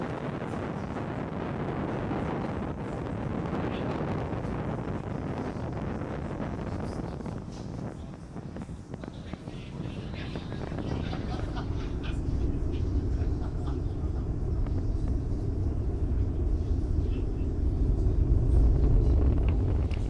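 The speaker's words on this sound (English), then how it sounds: "Falcon 9 has successfully lifted off from Launch Complex 39A, carrying our 53 Starlink satellites into space" SpaceX Falcon 9 rocket carrying 53 Starlink satellites climbing away from Launch Complex 39A, a continuous broadband roar and rumble with wind buffeting that swells noticeably louder and deeper over the second half.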